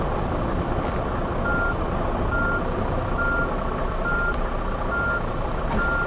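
A city bus in a bus-driving video game sounds its reversing alarm, a regular series of evenly spaced beeps over a steady engine drone.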